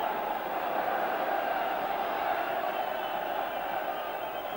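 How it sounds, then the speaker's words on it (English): A Bulgarian football crowd roars steadily throughout the stadium during a European Championship qualifier against Ireland, a distant, sustained wash of cheering and chanting with no breaks. "The Bulgarian crowd trying to encourage the team to get forward"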